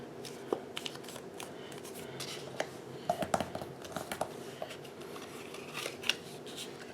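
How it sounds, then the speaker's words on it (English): A paper card base being folded in half for a Stampin' Up! card, giving soft crinkles, light taps and a few sharp creasing clicks close by at low volume, without any talking. "So I'm going to fold it in half."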